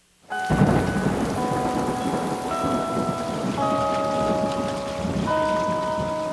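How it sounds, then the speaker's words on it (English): Heavy rain and a thunderstorm in a television commercial, a sudden loud crash of thunder over dense, steady rainfall, with a few tonal notes of music above it. "Rain is good."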